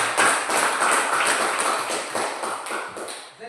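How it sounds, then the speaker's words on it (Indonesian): A class of students claps together, a dense patter of many hands that stays fairly steady and close, then thins out and fades toward the end. "kita berikan tepuk tangan"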